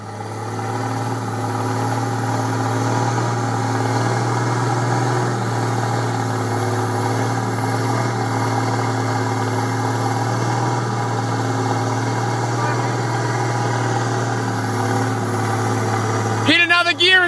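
Nissan SD33Ti turbo diesel engine running steadily at a low, even idle-like drone, loud and close, with a brief burst of added noise near the end.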